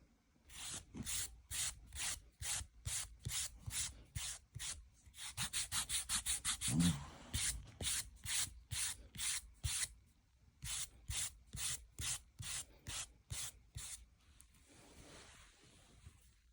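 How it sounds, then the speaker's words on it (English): A foot file rasps against dry skin on the feet in quick rhythmic back-and-forth strokes, close up and fairly loud, in bursts with short pauses between them. "so that is the main bit of my foot filing done"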